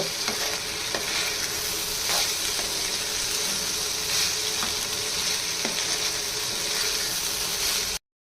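Bitter gourd slices frying in a pan over medium heat with a steady loud sizzle throughout, broken by scraping spatula strokes as the pieces are stirred, with no talking.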